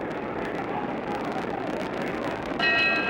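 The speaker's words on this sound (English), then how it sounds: "There's the bell for round 2." The ringside bell ends round 2 of the 1967 Muhammad Ali vs Ernie Terrell heavyweight boxing match. It rings briefly at the very end, over a steady wash of arena crowd noise.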